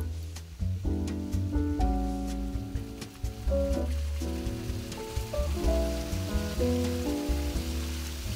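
Tikoy, a sticky rice cake, sizzles as it fries in a pan outdoors by a river, giving a steady crackle that sits under music playing throughout.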